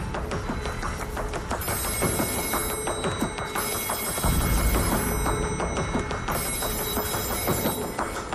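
A telephone rings continuously in bursts of bright bell tones on the studio set of the Deal or No Deal television game show, over a busy background.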